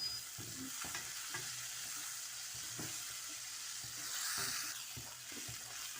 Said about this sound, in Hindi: इसको थोड़े से फ्राई करती हूँ